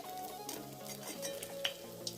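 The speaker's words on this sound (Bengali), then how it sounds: "মেদু বড়াটা গোল করে মাঝে একটা ফোটো করে তেলের মধ্যে ছেড়ে দিচ্ছি" Medu vada batter frying in hot oil gives a quiet, continuous sizzle with light stirring and a couple of faint metal clinks from the pan and utensils, no voices.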